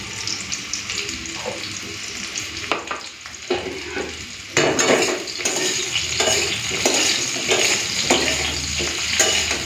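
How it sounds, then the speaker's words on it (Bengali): Cauliflower and potato pieces fry in a pan with a continuous close sizzle, punctuated by scraping and stirring sounds from a utensil against the pan, with no talking. "ফুলকপি আলু ভাজা হয়ে গেছে, তুলে নেব।"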